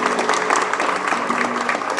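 A church congregation claps together at a Spanish-language service, a steady, loud wash of applause mixed with voices and faint music underneath, continuing throughout.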